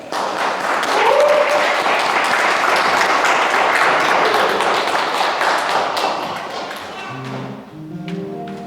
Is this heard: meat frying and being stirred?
no